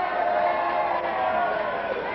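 Wrestling fans cheer and yell in an arena during a Mike Miller versus Jerry Grey match, a steady roar of crowd noise with no break.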